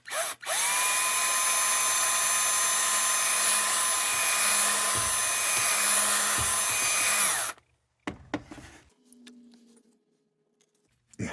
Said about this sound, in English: I'm gonna drill out one of these holes.